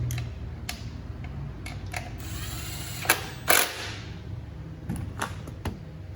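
On a 2009 Honda CR-V engine, a ratchet tightens the spark plug cover's retaining studs, producing a series of sharp clicking ticks and short ratcheting bursts close by.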